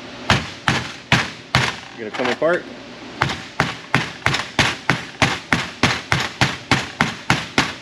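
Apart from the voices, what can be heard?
hammering on a metal case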